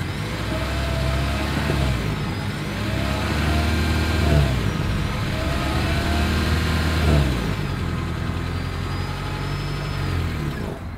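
A 2022 Toyota Prius hybrid with AWD runs its engine near the exhaust, giving a steady, moderately loud hum that swells gently and settles several times without stopping. No one speaks.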